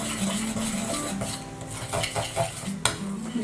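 A regular spoon stirs and scrapes a thick homemade deodorant mixture of powders, butter, oil and beeswax in a bowl, giving close, steady clinking and rasping strokes with one sharper knock near the end, no talking.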